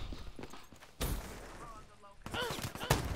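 Shotgun blasts in the shooter game Black Ops 3, two loud sharp booms about a second and a half apart, with game effects and speech mixed underneath.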